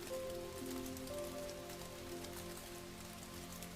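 Rain drums softly on foliage in a steady, unbroken patter, close and uniform in loudness, accompanied by a gentle low drone with no talking.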